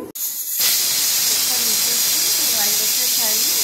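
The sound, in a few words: pressure cooker whistling steam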